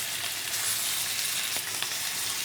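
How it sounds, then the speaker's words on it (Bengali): Boiled beef frying in butter in a home kitchen, a steady close sizzle and crackle with faint stirring ticks, continuous and alone without talk. "রান্নাঘরে রান্নার একটা আওয়াজ আসে সেটা এখন হচ্ছে ফ্রাই হয়ে যাচ্ছে বিফটা"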